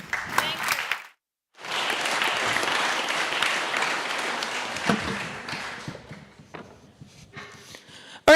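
Audience at an innovation event opening ceremony breaking into sustained applause after a brief pause, a dense wash of clapping that swells, holds, then thins out toward the end, with some voices mixed in.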